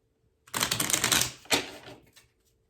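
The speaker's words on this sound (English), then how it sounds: "So let me pull a few more cards here for each." Tarot cards shuffled and pulled from a deck: a dense rapid riffling flutter for about a second, then a sharp flick and a short softer shuffle, close and alone in quiet surroundings.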